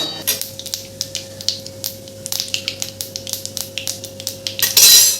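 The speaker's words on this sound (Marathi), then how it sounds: "तेल कडक तापलं की त्यामध्ये छान मोहरी टाकून घ्यायची आणि नंतर मी इथे थोडंसं तीळ आणि जिरं घेतलेलं आहे" Mustard seeds, sesame and cumin dropped into hot oil in a pan, with a burst of sputtering pops and crackles, metal clinks from utensils, and a louder sizzle flaring at the end, heard close with no talk.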